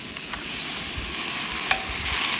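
Beef chunks searing in a pan over a camp stove for Guinness beef stew, a steady broadband sizzle with a few sharp spatters, close and continuous with no talking.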